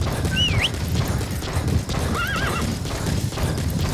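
A horse in the video game Metal Gear Solid V whinnies twice, with high wavering neighs spaced a couple of seconds apart over a steady clip-clop of hooves and an outdoor ambient bed.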